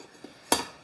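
A steak knife with a plastic tip guard gives a single short, bright click of plastic against metal, close and isolated, after a faint tap.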